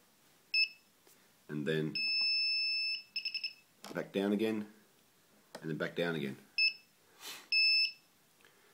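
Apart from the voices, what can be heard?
flight controller beeps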